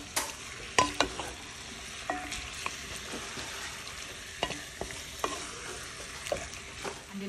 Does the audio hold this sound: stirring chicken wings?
yes